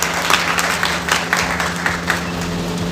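Audience applause at an entrepreneurs' gathering, a steady wash of many hands clapping with scattered louder claps, moderately close and continuous throughout.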